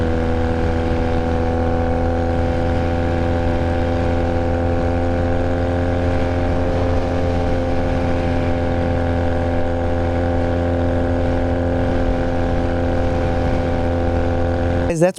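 Honda Rebel 250 motorcycle running on a test ride, a steady loud engine drone with a constant pitch and no clear revving for the whole stretch, ending abruptly.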